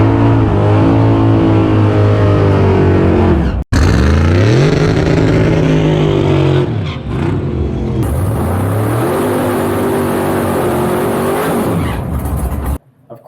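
A car on Holley EFI sits on the rev limiter during a burnout, giving a loud, sustained, stuttering engine roar that cuts out briefly and then climbs again, with no talking.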